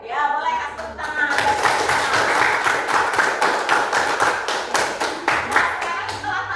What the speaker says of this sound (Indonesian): Ya, boleh kasih tepuk tangan.